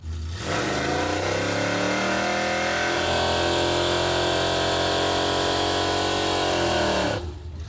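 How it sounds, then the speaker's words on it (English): Impala engine roars through a sustained, loud tire burnout, revving up and holding high RPM for several seconds before cutting off abruptly, with tire squeal blended into the steady engine noise. "that was a pretty good burnout"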